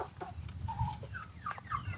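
Chickens on a small poultry farm cluck near and far, giving short scattered calls and rising squawks over a low background murmur.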